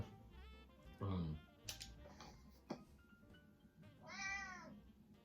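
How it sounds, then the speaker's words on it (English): Two distinct cat meows from the survival video game 60 Seconds, one near the start and a longer one near the end, with game ticking and background sound between them. "What did Santa bring us for Christmas? A family cat."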